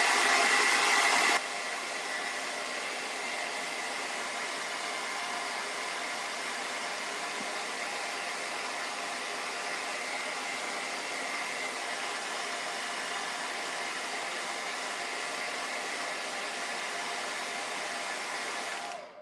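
A hair dryer blows on a freshly made craft door hanger, a steady close whooshing roar that runs unbroken for nearly twenty seconds, slightly louder in the first moments, then cuts off at the end.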